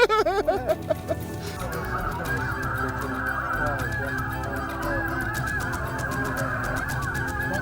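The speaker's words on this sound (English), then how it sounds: "we have been swarmed by snow geese, and we still have them coming in" A large flock of snow geese honks continuously over open prairie, dense overlapping calls loud and close at first, then a steady clamor of many birds, with no talk.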